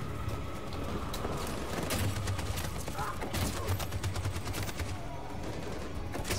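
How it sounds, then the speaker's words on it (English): Machine gun fire during a battle in Detroit: Become Human, rapid bursts of gunshots rattling continuously over a dense background of combat noise. "That machine gun is taking down"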